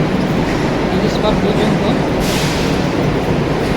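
Steady rumble of a Kolkata Metro train in motion, loud and continuous, with a voice speaking over the noise.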